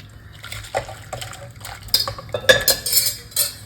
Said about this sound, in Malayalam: ഈ കറി നമുക്ക് ഈ പരന്ന പാത്രത്തിലേക്ക് ഒഴിച്ചു കൊടുക്കാം